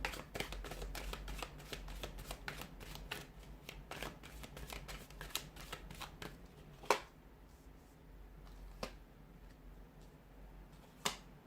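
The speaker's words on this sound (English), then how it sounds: "we'll give the cards a shuffle" Tarot cards are shuffled by hand in a rapid, continuous run of crisp riffling clicks and snaps, close and fairly loud, slowing into a few sparse taps toward the end.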